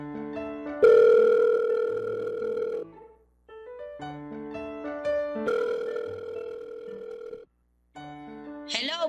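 A steady electronic telephone tone sounds while calling a mother, holding for a couple of seconds at a time in repeated long pulses, clear and close with brief silent gaps between them.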